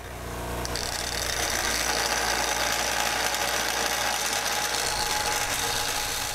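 An angle grinder flattens the head of a carriage bolt during a 1933 hot rod door install, a loud, sustained metallic whine that spins up within the first second and holds steady, close and alone.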